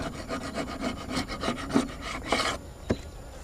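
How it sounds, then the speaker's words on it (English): Close, rhythmic scraping and rasping as a tool drags mud off the wooden surface of a beehive, a steady series of gritty strokes with a couple of sharper knocks near the end. "So I'm gonna maybe try to scrape some of this mud off so I can tell if he's coming back."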